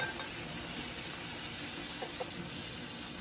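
Chopped tomatoes sauté in a pan with onion and garlic, a steady soft sizzle and hiss running evenly throughout with faint stirring and no speech.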